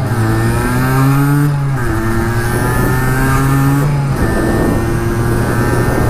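A Yamaha DT LC 50 motorcycle engine revs hard at full throttle, its high buzzing note climbing, dropping at a brief gear change near two seconds, then climbing again, loud and close throughout.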